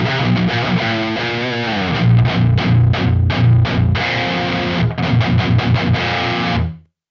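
A heavily distorted electric guitar through a Quad Cortex Peavey 5150 amp model plays chugging riffs and sustained chords, loud and dense, ending abruptly at the close.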